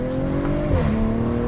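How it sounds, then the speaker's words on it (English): A B9.5 Audi RS5 with an IE Stage 1 tune roars close by under throttle, its engine note climbing, briefly dipping, then holding steady in a continuous loud growl. "Listen to that exhaust, listen."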